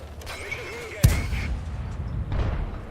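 A single loud artillery blast in World of Tanks, a sharp boom followed by rumbling decay and lingering battle noise.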